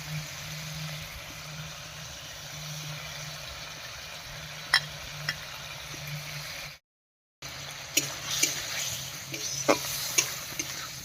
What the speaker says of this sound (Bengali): এবারে মশলা বাটা জল দিয়ে কষিয়ে নেব আর এর সঙ্গে দিয়ে দেবো টমেটো কুচি